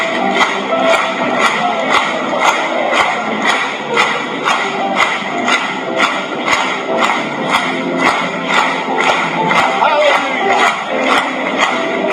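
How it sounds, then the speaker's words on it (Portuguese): A church congregation claps hands in a steady, even beat during Portuguese-language worship, many sharp claps close together over sustained singing voices, loud and continuous throughout. "Batamos palmas para ele."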